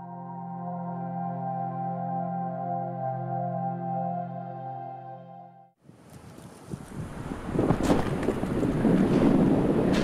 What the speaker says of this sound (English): I'm back down at the seafront now.